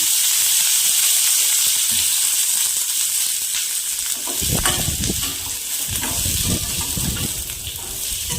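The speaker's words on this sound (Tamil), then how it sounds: "கொஞ்சமாக, பூண்டு, இஞ்சி, எண்ணெய் ஊற்றி வதக்கிடுங்க." Garlic and ginger sauté in hot oil for mutton kulambu, giving a constant loud hiss and sizzle. Rougher bursts of stirring and spattering join in the second half.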